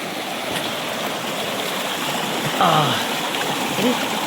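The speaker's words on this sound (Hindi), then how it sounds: "ये खूबसूरत प्यारी सी नदी।" A river flowing at Rishikesh gives a steady, broad rush of moving water that runs close and constant throughout, with a brief tonal call and a small splash rising over it near the end.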